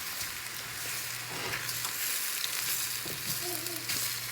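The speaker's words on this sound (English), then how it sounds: "we're gonna fry this until they're all kind of crispy" Tortillas fry in oil in a pan until crispy, giving a steady close sizzle and crackle that runs the whole time, with small stirring scrapes and no talking.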